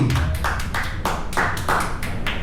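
Audience at a brewery comedy show clapping in a steady rhythm of sharp, bright claps, close and fairly loud over low room murmur.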